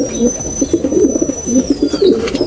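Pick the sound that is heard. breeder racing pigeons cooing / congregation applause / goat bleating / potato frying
breeder racing pigeons cooing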